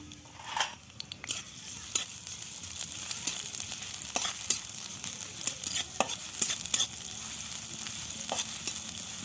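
Chopped onion and green chilli frying in hot oil for a dal puri filling, a steady hissing sizzle broken by scattered pops and spatula scrapes, close and without speech.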